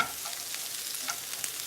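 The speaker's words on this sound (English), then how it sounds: "I'm frying up my tortillas, peppers, and onions on high heat" Tortillas, peppers and onions fry in a pan on high heat, giving a soft, continuous sizzle with small crackling pops and faint stirring scrapes, heard alone without talk.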